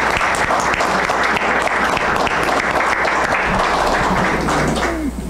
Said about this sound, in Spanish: pues un aplauso por ti